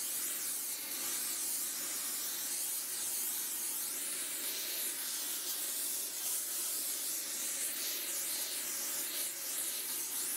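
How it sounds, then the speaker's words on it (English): A brazing torch roars with a steady, loud hiss as it heats ground-off cast iron edges and melts brass rod into the joint, a continuous rushing flame noise with no talk. "Now the brazing process begins, as the brass is melted, connecting with the ground-off cast iron edges."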